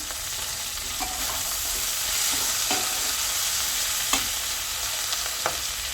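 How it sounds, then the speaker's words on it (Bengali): Dried kachki fish and dried chillies fry in a little oil, a steady close sizzle with occasional scraping stirs, no voices. "কাশকি শুটকিগুলো আমি আগে ভেজে পরিষ্কার করে দিয়ে রাখছি, এখন হালকা তেলে ভেজে নিব।"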